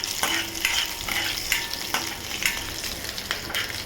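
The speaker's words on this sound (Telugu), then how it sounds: "ఇలా బాగా పోపు వేగిన తర్వాత" A tempering of cumin, asafoetida and dried red chillies crackles and sizzles in hot oil while being stirred, with repeated scraping strokes over a continuous fizzing sizzle.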